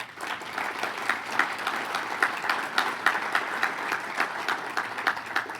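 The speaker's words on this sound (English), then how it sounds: "Let's give them a round of applause." Steady applause from an audience at a cybersecurity event, a dense patter of many hands clapping with small rhythmic surges, moderately loud and carrying on without speech for several seconds.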